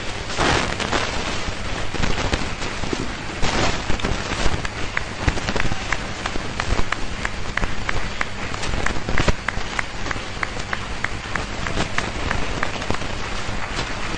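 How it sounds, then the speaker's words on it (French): A church congregation applauds together for a sustained stretch, a dense, steady, rain-like wash of many hands clapping at even loudness throughout, with no one speaking over it. "applaudissez vous-même pour vous-même"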